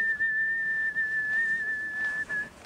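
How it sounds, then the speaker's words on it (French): A steady, sustained single-pitch whistle is blown as a recall and direction signal during dog training, held for about two seconds, fairly clear over light outdoor background noise. "Nous allons donc maintenant utiliser votre sifflement pour les changements de direction."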